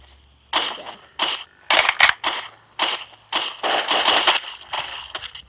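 A rapid series of sharp video-game gunshots in quick irregular bursts, crisp and close, with short gaps between shots.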